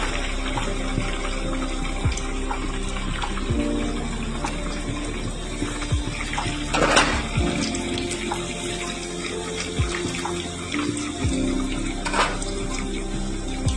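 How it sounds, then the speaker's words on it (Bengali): Onion fritters (peyaji) fry in hot oil with a steady, close hiss of sizzling broken by scattered small pops and crackles. "একে একে এবার ভেজে নেব। তো হাই দিয়ে ভেজে নেব।"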